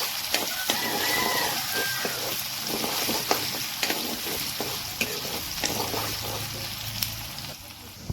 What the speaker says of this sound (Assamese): পিঁয়াজখিনি ভালদৰে ভাজি ল'ম।